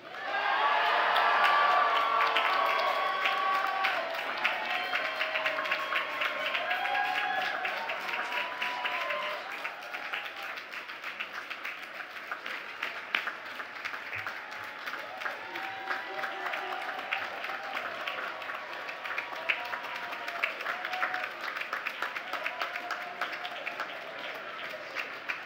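Applause for new Bowdoin College graduates at an outdoor-style commencement ceremony, a long sustained clapping from a large crowd with scattered whoops and cheers, loudest at the start then settling into an even, steady roar.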